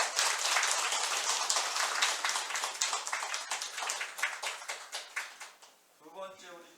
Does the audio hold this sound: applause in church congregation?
yes